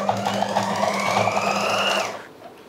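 A sewing machine stitches lace onto salwar fabric, its steady, even whir running for about two seconds before it stops and leaves near silence.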